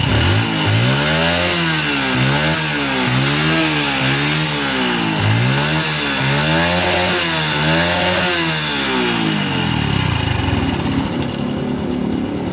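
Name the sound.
Honda Wave 110 motorcycle engine revving during test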